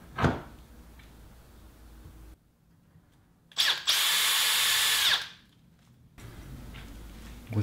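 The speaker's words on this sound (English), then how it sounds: "Now I can go ahead and drill the hole, and I know it's going to be in exactly the right position." Power drill boring a 3.5 mm hole through an alloy plate for a small tube amplifier chassis: a short whine starts, then a steady loud high-pitched drilling burst lasts about a second and a half before winding down, with no talk.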